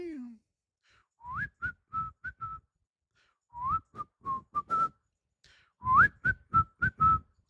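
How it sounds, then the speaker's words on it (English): A person whistles a short melodic phrase three times, each a rising slide into a run of quick clipped notes, close and clear with pauses between phrases and no talking. "I whistle better than they do."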